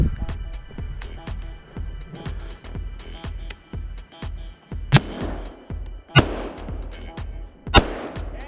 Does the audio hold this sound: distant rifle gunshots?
yes